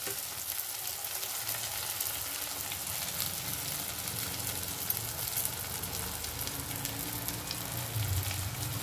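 Tomatoes sizzling and frying in a hot pan of cooking vegetables, a steady crackling hiss that continues evenly throughout.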